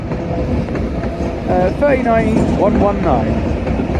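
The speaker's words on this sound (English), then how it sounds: "As we have the Pride Pendolino coming in." The Pride-liveried Pendolino train rolls into Manchester Piccadilly, with loud rumbling wheels, rail noise and rising squeals and tones as it nears, while someone speaks over it.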